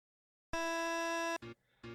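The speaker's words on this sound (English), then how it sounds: "that was the sound of a Wii crashing." A Nintendo Wii crash gives a loud, steady electronic buzz that starts abruptly out of silence, holds for almost a second, then breaks into two short stuttering bursts, used as a sound effect in a horror video game.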